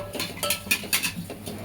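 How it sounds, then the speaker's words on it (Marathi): A spoon or spatula scrapes and taps against a pan while vermicelli (shevya) is stirred and roasted over low gas, with quick, close, irregular clinks in a steady pattern. "मंद गॅसवरती 2 मिनिटच परता, जळता कामा नये याची काळजी घ्या।"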